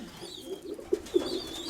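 A pigeon coos softly and fairly close, with a few short rounded coo notes in the middle of a quiet outdoor background.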